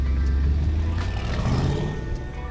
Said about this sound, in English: It's time to take this baby for a drive and see what that sport mode is all about.